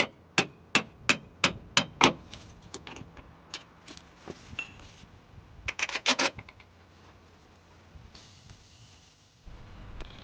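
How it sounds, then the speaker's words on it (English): A hammer strikes a metal drift punch to line up the bolt holes of a front control arm on an Opel Corsa C. A quick run of about seven sharp taps comes first, followed by a tighter cluster of hits and then quieter clinks. "I'm using the drift punch again to line up the hole, which will make inserting the bolts so much easier."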